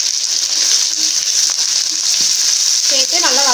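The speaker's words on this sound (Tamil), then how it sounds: "இப்போ இந்த பூண்டும் வெங்காயமும் கொஞ்ச நேரம் வதங்கட்டும்" Garlic and onions sauté in a pan for a Tamil garlic kuzhambu, giving a steady, loud sizzle and frying hiss throughout, with a brief stirring scrape near the end.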